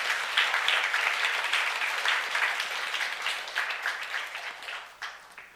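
A church congregation at a youth service applauds in a steady, moderately distant wash of clapping that carries on throughout and thins slightly near the end.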